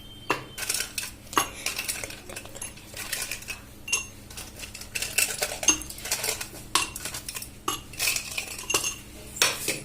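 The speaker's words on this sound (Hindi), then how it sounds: "इस सारा में हम आइस डाल दै छी।" Ice cubes dropped into glasses of mango panna, a quick series of hard clinks and rattles against glass, close and bright, in irregular bursts with no talking.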